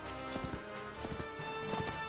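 Horse hooves clip-clop in a Mount & Blade battle with cavalry, a few quick clusters of hoofbeats in uneven bursts over a steady background ambience, fairly close and moderately loud, with no talking.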